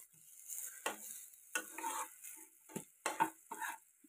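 Eggplant (baingan) slices fry in a pan over a low gas flame, making a quiet, soft sizzle broken by short, irregular bursts of scraping and shifting.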